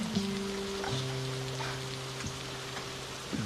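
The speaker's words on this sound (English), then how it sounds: "Been raining like hell ever since we got here." Heavy rain pours steadily across a town's main street, a dense continuous wash with a low sustained hum running beneath it.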